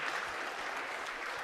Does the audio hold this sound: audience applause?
yes